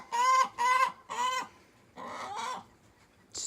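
A cold-hardy hen in a chicken coop clucks nearby in a few loud, clear bursts, a quick run of three calls followed by a softer pair after a short pause.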